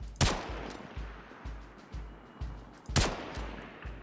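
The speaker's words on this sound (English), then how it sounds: "Deliberate fire is one round or one little burst of ammo every 6 seconds" Gunfire from the video game Star Citizen cracks out in rhythmic single shots and short bursts about every half second, loud and close, with a sharper double burst near the start and another near the end.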